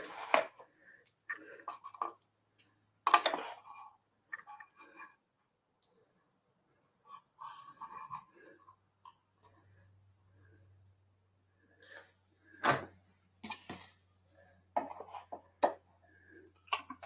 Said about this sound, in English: cut out a couple more.